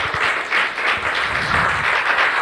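A church congregation applauds together, a dense steady wash of clapping that holds for a couple of seconds with no one speaking over it.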